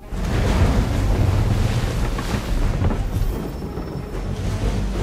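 A sailing ship crossing the ocean in the game Assassin's Creed 3: a steady, loud rush of waves and wind fills the whole stretch, with no voices over it.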